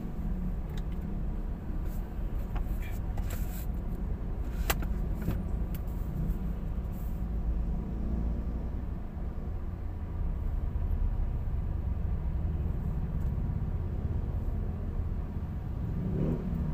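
Street traffic in Las Piñas: a continuous low rumble of car engines with occasional revving as vehicles pass close by, steady throughout with no talking.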